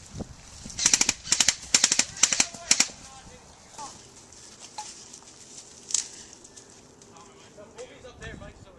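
Airsoft guns fire on full automatic in several rapid, close bursts of sharp clatter during an outdoor skirmish, followed by scattered single shots and people talking and shouting.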